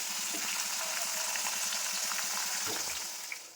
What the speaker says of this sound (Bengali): জোরটা আমি কমিয়ে কমিয়ে ভাজছি, নাহলে পরে কালারটা নষ্ট হয়ে যাবে।